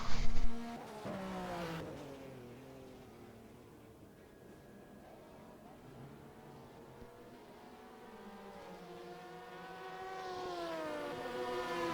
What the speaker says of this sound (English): And there we have all the cars crossing the line